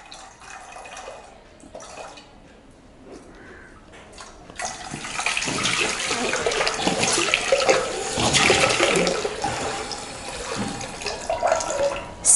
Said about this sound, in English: So now I'm going to pour the water into the vessel.